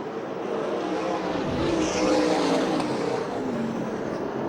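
USAC National and CRA sprint cars race on a dirt track at the Western World Championship in Phoenix, a loud, continuous engine roar that swells and fades slightly as the cars pass, with no break.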